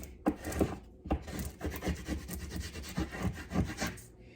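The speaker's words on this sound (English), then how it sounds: "I'm just going to burnish it" Foil is burnished hard onto a fall-themed glitter tumbler, rendered as a close, steady run of rough rubbing and scraping strokes in an uneven rhythm, with no talk.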